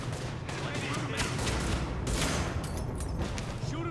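Sustained gunfire from The Division beta mission crackles in dense overlapping volleys, loud and steady throughout, with a voice faintly mixed underneath.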